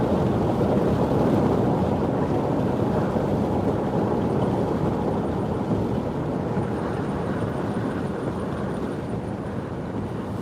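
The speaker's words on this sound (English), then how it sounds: "We're starting to get some gusty winds already out here." Gusty wind from Tropical Storm Nicholas roars loud and constant across the microphone, a dense rumbling buffet with no pause, steady throughout.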